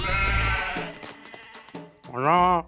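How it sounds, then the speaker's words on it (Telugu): Sheep bleat nearby, a few short calls and then a long, loud, wavering bleat at the end. "ఆ వెనకాలే గొర్రెలు."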